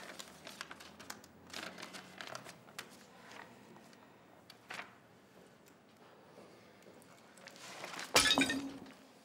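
Glass shatters in a domestic drama scene: a sharp, loud crash near the end that follows several seconds of faint shuffling and clinking.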